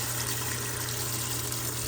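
Steady running water rinses dirty estate jewelry, a continuous close, even splashing flow with no talk.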